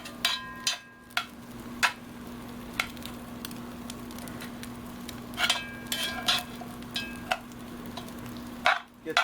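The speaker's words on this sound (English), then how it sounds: "Then we're going to stir this up a little bit." A spoon stirs a pot of dirty rice set to simmer for hours, producing intermittent scraping and clacking strokes over a low steady hum and faint bubbling, with pauses between stirs.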